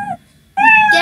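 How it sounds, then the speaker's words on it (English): A cartoon cat meow sound effect from the Scratch programming tool: a short meow, a brief pause, then a longer, louder and brighter meow, clear and close. "Cat says meow."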